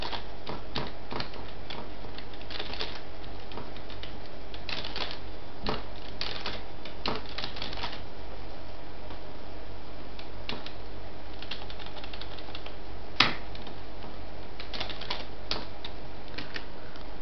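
Rapid keystrokes on a computer keyboard while entering data into an Excel spreadsheet, an uneven run of light clicks with short pauses and one sharper clack, close up and alone.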